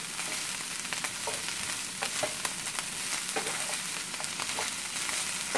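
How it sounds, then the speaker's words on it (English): Broccoli sizzles steadily as it fries in a hot pan with a constant crackle, small pops and occasional stirring scrapes, close and continuous. "Frying the broccoli and then"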